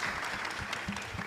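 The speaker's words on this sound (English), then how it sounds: "Yes, you can applaud her." An audience at a Nigerian conference on the digital economy claps for a speaker, a moderate, continuous patter of many hands heard from a short distance with no talking over it.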